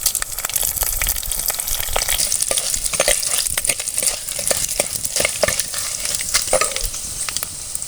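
Cumin seeds and broken dried red chillies sizzle and crackle in hot oil in a pan for a traditional Tamil kuzhambu, with steady frying hiss, stirring scrapes and sharp pops close up, no talk.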